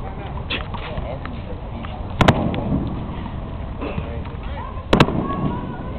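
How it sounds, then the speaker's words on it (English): Fireworks near a stadium on Staten Island pop in two sharp, loud bursts a few seconds apart over steady outdoor crowd murmur and chatter. "today's the fireworks by the stadium"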